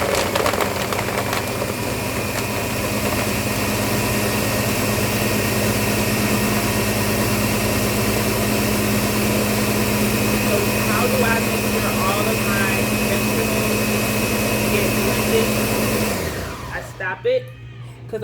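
A kitchen blender, not a Vitamix, whirs loudly and steadily at close range for most of the time, then cuts off abruptly near the end, leaving a low hum.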